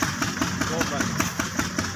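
A tractor engine runs with a steady, rhythmic chugging pulse, loud and close throughout, while someone talks over it.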